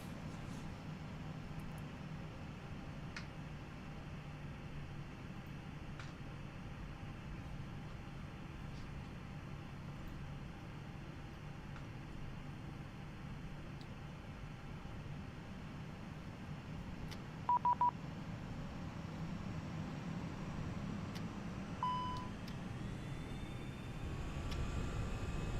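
Airbus A319 engines roaring through a takeoff roll from the cockpit, a steady broadband rumble and whine holding at a constant level and building slightly toward the end, with a few brief electronic beeps partway through.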